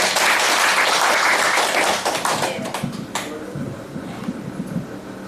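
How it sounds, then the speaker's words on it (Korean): A crowd at a committee gathering ahead of a bust unveiling claps loudly, the dense applause thinning out after a couple of seconds into scattered, fading claps. "큰 박수로 모시겠습니다"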